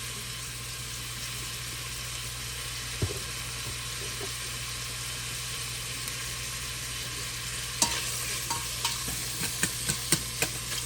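Onions and green beans fry over high heat with a steady, close sizzle throughout, joined by a few scattered scrapes and quick stirring taps that grow more frequent near the end, with no talking.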